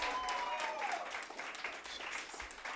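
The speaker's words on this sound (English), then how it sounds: "Clap." Attendees at a small club meeting clap together in a short, even round of applause, close and moderately loud, with a faint voice underneath.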